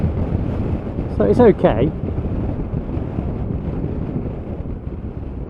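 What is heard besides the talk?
wind blast while riding Zero SRS electric motorcycle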